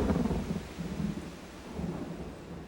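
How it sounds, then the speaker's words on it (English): Thunderstorm with driving rain and rolling peals of thunder, a steady low rumble under a continuous hiss of heavy rainfall, swelling and easing over a few seconds with no voices. "The storm unleashed the full force of its power, with driving rain and great peals of thunder."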